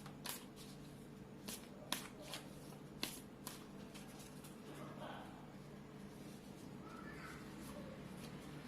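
Tarot oracle cards are shuffled and drawn in a quiet room, giving several sharp, crisp card snaps and riffles in the first few seconds, followed by softer handling sounds, with no talking.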